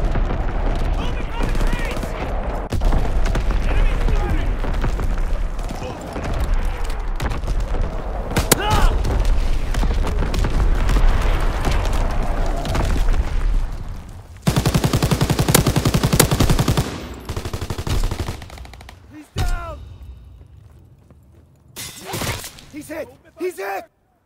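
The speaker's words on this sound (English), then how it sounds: "Incoming enemy artillery!" Dense gunfire and artillery blasts from a Call of Duty: WWII team deathmatch battle around a Gustav cannon, with rapid machine-gun bursts, heavy booms and shouted voices layered over a loud, continuous combat din that thins out toward the end.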